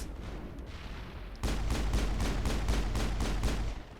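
Video game firefight in Mass Effect: after a dull rumbling ambience, a steady burst of about ten heavy, booming gunshots at an even rhythm over a thick low background, with no talking.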